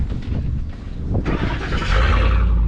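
A Ford Raptor pickup engine starts up, with cranking followed by a steady, loud idle rumble as the engine catches and settles.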